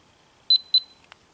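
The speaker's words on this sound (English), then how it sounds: "Double beep means it's on." A Polaroid wireless transmitter switching on gives two short, sharp electronic beeps in quick succession, followed by a faint click, in an otherwise quiet room.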